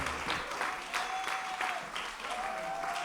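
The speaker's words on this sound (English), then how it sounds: "Round of applause for yourselves." Audience at a Cosmic Mass gathering breaking into sustained, dense applause that stays steady and full throughout, with many hands clapping together in a reverberant hall.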